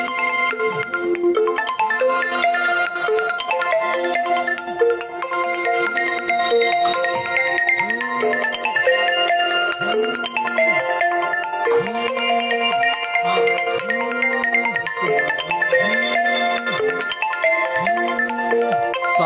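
A phone ringtone plays during a live broadcast about a Chhattisgarh reservation protest, repeating a melodic tone pattern in regular bursts for the whole stretch, loud and with no talk over it.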